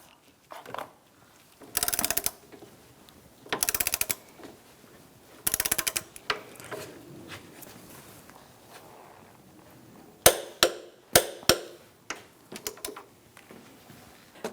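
A wrench works on the transmission mount of a 2012-2018 Ford Focus: three short ratcheting bursts, then a quick run of sharp, close mechanical clicks as the bolt is brought to torque.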